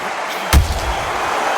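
A single heavy punch lands in a boxing video game, a loud booming thud that rises out of steady crowd noise and quickly fades.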